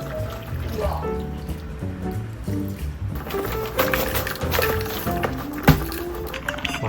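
Chicken stock is poured into a pot for a Korean liquor-steamed dish, a continuous splashing gurgle of liquid under indoor chatter, with a brief clunk near the end.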